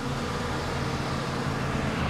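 A 1993 car's engine idles steadily on its stock exhaust during warm-up, a low, even rumble that is fairly quiet and continuous, heard from close by with no talking.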